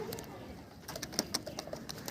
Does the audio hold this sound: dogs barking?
no